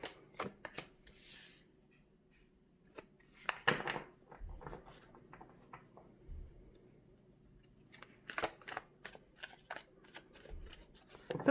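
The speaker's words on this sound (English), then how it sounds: "Got cards flipping all over, but too many of them to take." Tarot cards being shuffled and flipped, quiet bursts of riffling and sharp card snaps scattered irregularly over a soft background, close and unaccompanied by talk.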